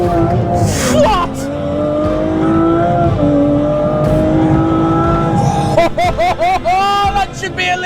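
An Aston Martin Vanquish Volante convertible with a twin-turbo V12 accelerates hard with the top down, a loud rising engine roar through the gears with tire noise and sharp gear changes, a voice briefly heard.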